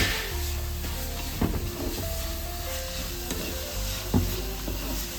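Turmeric powder being stirred into a fish curry (seer fish) in a pan, giving a steady sizzle with scraping stir strokes and occasional clatters of the spoon against the pan, close and continuous.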